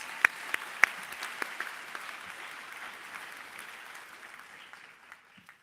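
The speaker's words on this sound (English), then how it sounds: "Another round of applause for Bethany, please." An audience at a medical school commencement ceremony applauds a speaker, a dense wash of clapping with a few sharp close claps early on, tapering off gradually toward silence.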